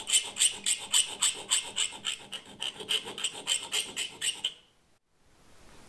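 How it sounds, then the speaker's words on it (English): A hand file rasps across a thin fog light housing for a 6V LED conversion on a Citroen 2CV, with steady back-and-forth strokes, close and fairly loud, for about four seconds before stopping into near silence. "It files very nicely, this stuff, so it's not so bad"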